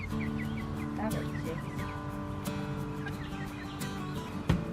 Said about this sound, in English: while the girls play with the chickens